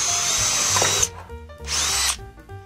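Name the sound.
power drill boring a 7mm hole in wood panelling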